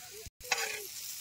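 Chopped onions fry in a pan, a soft close sizzle interrupted by a brief moment of silence, then resuming with a short crackling burst.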